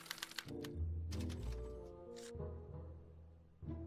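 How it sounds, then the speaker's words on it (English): A special typewriter printing out a punch card in the Back to the Future video game: a quick burst of crisp clacks, then heavier mechanical thunks and whirring tones, fairly close and alone. "As the responses are recorded, they're relayed to this special typewriter, which prints out a punch card that represents the subject's mind map"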